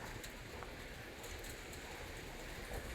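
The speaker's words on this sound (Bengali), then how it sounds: "দেখেন বৃষ্টি নেমে পড়ছে" Steady rain from a sunny sky in Saudi Arabia patters softly on surfaces, a continuous quiet hiss with no voices.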